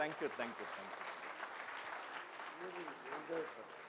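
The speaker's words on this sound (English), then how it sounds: "Ladies and gentlemen, a huge round of applause" Audience applause for a speaker at a chartered accountants' talk, a steady wash of many hands clapping at moderate distance, with voices speaking over it.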